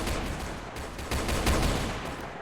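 Rapid bursts of automatic gunfire from a zombie apocalypse video game, dense and continuous, a steady rattle of shots running through the whole stretch at moderate loudness.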